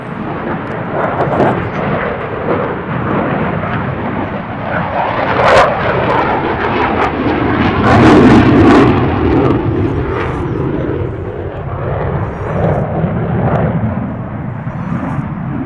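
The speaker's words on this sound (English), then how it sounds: "those are F-14s." F-14 fighter jets at an air show in Lincoln, Nebraska give off a loud, continuous roar that swells and fades slightly as they pass, with crowd noise and faint voices underneath.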